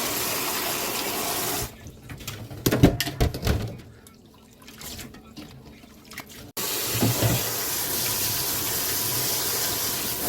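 Green laver seaweed rinsed by hand under a running kitchen tap, a steady broadband rush of water broken midway by splashing and swishing as the seaweed is shaken in the sink, then the flow resumes.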